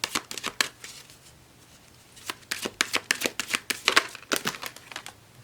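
A deck of Enchanted Map Oracle cards being shuffled by hand: crisp bursts of riffling and snapping card edges in two clustered runs separated by a short pause, close and fairly loud with no talking.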